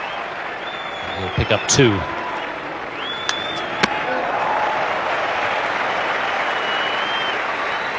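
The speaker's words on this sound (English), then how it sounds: "And a round of applause for a fine piece of fielding." A cricket crowd at an India versus England match applauds a fine piece of fielding, a broad, steady wash of distant clapping under a commentator's voice, with a couple of sharp knocks early on.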